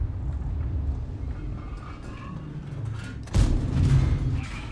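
An AMX M4 51 tank cannon in a video game fires one loud, booming shot partway through, rising suddenly over a low rumbling engine background.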